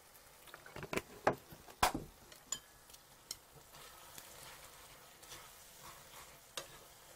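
Rice noodle vongole pasta in a pan as a splash of water is added: clattering stirring strokes up front, then a soft, steady sizzle with occasional scrapes, close and without speech.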